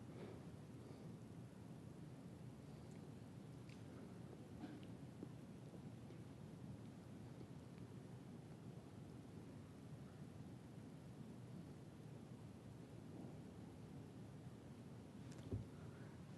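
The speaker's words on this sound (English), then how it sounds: "South Florida thunderstorm." A South Florida thunderstorm rolls on as a constant, dense wash of rain and low rumbling, with a brief sharper crack near the end.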